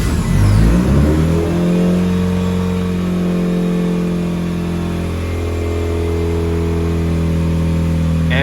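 Mitsubishi Evo engine cold-starting on E85 fuel with fresh head studs: a loud crank and catch, a brief rev flare, then a steady, slightly uneven high idle that settles, close up with no talking.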